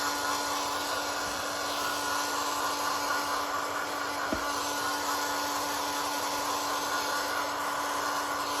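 A hair dryer drying junk journal pages blows a steady, loud, continuous whir with a constant tonal hum that holds unchanged throughout, with no voices.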